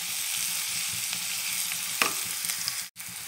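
Onions frying in a pan over full flame, a steady close sizzle with faint stirring taps and a brief dip near the end.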